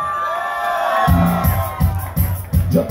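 An outdoor crowd at a pálinka festival screams and cheers, a loud, dense roar of voices punctuated by a pulsing, rhythmic low beat.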